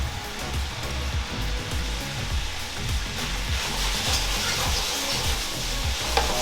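Vegetables hit a hot frying pan with wine, crackling and sizzling loudly. A dense, hissing fry carries steady popping throughout, with low thumps from stirring or handling.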